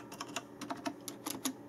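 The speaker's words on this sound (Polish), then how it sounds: "Jak na klawisze mechaniczne, to powiem Wam, że są niezwykle ciche." Typing on a Logitech G910 Orion Spark mechanical keyboard gives quiet, irregular key clicks in short clusters, close up and fairly soft, with no talking.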